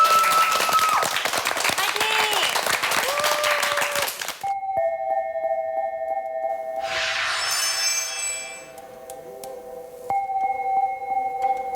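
An audience on a Korean TV variety show breaks into dense, lively applause for about four seconds. The clapping then stops abruptly, leaving soft musical tones and quiet background sound.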